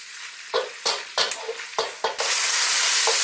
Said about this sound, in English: Again, let's stir this around.